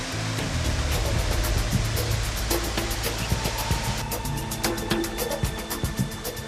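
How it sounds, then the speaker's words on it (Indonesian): Dense, continuous rushing roar of a short but forceful waterfall at Tangkahan, Langkat, heard up close and steady from start to finish, with no voices over it. "Air terjun yang tak terlalu tinggi dan besar ini ternyata memiliki jatuhan atau hempasan air yang cukup deras dan kuat"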